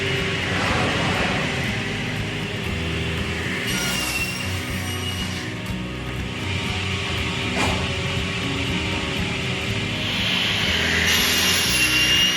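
Wooden boards for a ceiling in a village house renovation are sawn, a continuous rasping stroke sound, close and steady, with a few brief knocks and shifts along the way.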